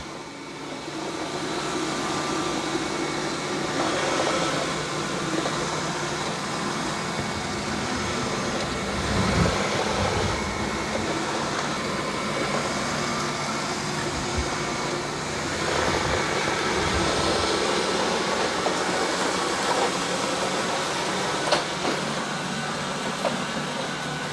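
A Roborock Q5 Pro or Narwal Freo X Plus robot vacuum cleans a room, giving a steady, continuous whirring drone of motor and suction with small shifts in tone as it moves along the floor.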